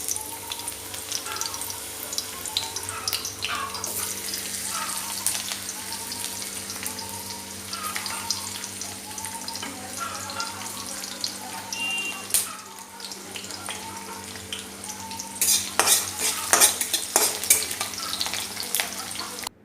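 Onions and dhekia fern greens frying in hot oil, a steady close sizzle with stirring scrapes and a few louder clatters near the end, no talking.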